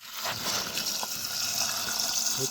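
Water poured into a pot over lentils, green chillies, garlic, shallots and sorrel leaves for Andhra-style keerai paruppu kadayal, a steady close gushing splash lasting a couple of seconds.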